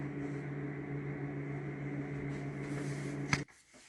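A microwave oven heating milk hums steadily and quietly, then gives a sharp short beep as it stops, leaving near silence.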